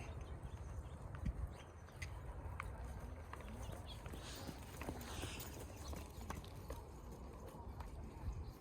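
Horse hooves walking during a riding lesson on a horse named Prince, soft steady clip-clop steps heard from a distance under broad ambient noise, with no talk.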